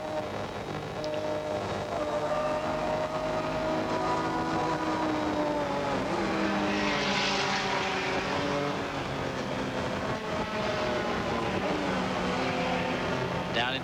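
A 1981 Bathurst touring race car's engine drones on, easing slightly as the driver lifts the throttle into a left-hand dip. The note is heard from a distance with a broadcast-style quality, under faint background noise.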